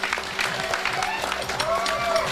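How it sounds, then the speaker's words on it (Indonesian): Women of the Fatayat and Muslimat groups clap together during a break in an ustadzah's religious lecture, producing a dense patter of hand claps with voices murmuring faintly underneath. "tepuk tangan dulu"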